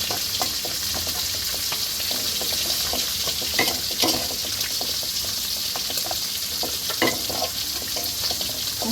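Onions fry in a pan until they turn brown, ready for vegetables to be added. A constant close sizzle and bubbling hiss fills the clip, with intermittent spatula scrapes and light knocks against the pan.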